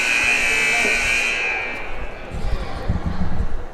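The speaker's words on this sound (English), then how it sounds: "that's the old Dundalk buzzer right there" The old gym buzzer at a CCBC Dundalk Lions college basketball game sounds as a steady, loud electronic tone for about a second and a half, then gives way to crowd noise and commentary.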